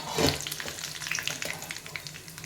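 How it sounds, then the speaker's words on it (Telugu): Urad dal, mustard seeds and cumin crackling in hot oil for tempering, a dense close sizzle with rapid popping spatters throughout. "తిరగమాతకి మినపప్పు వేసాను పప్పు వేసాను ఇప్పుడు ఆవాలు వేసాను జీలకర్ర వేసాను"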